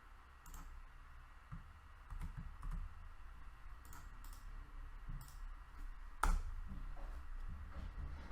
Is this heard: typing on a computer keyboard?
yes